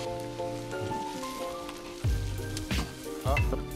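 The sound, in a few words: chicken pieces browning skin-side down with sweating shallots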